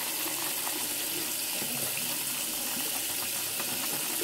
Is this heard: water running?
yes